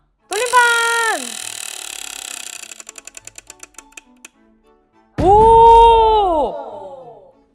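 A prize roulette wheel spins with rapid clicking ticks that slow down and stop, framed by two drawn-out vocal exclamations from people before and after the spin.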